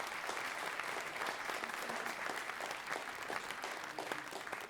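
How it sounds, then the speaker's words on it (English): An audience at a medical talk on multiple sclerosis gives a steady round of applause, many hands clapping evenly for several seconds at moderate volume. "So let's give her a round of applause."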